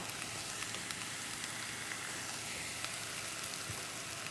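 Shrimp scampi sizzling softly and steadily in a pan with faint scattered pops and crackles, fairly quiet and continuous throughout.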